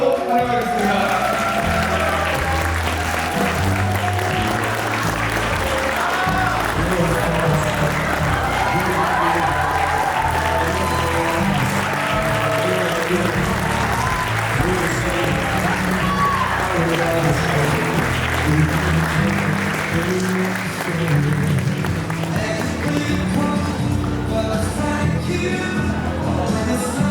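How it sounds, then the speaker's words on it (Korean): Wedding guests give loud, sustained applause in a convention hall as the groom walks in, a dense, steady wash of clapping with background music and scattered voices underneath. "신랑 입장! 뜨거운 박수로 환영하겠습니다."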